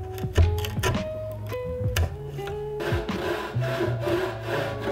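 A pull saw cuts through wood with close, rhythmic rasping strokes, some sharp squeaks between pulls, then a denser, continuous scraping as the cut deepens; no voices.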